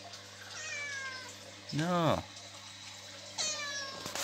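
A cat meows in a drawn-out, rising-falling cry at close range indoors, with shorter meow-like calls before and after, over a steady hum and occasional talk.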